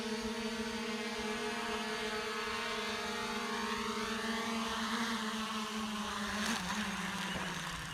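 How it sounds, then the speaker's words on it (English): An MJX Bugs 16 Pro drone hovers and comes down to land, its rotors giving a steady buzzing whine with harmonic tones that shift in pitch, fairly close and continuous throughout. "So you can see the MJX Bugs 16 Pro coming down."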